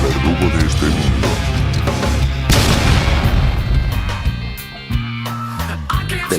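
A heavy object plunges from the sky and crashes into city streets, a loud sustained booming impact that rolls on with rumbling, explosive bursts and a lower thud near the end, set against dense background music.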